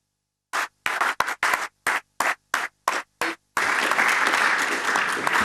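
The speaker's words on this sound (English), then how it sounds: "another round of applause for Carl." An audience claps in short separate bursts that build into sustained applause, loud and close.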